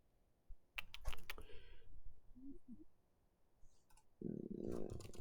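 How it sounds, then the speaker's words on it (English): Keystrokes clatter on a computer keyboard while a Cisco switch command is typed, with a burst of close clicks near the start, a short pause, then a denser run of key presses at the end. "we're just going to type it in."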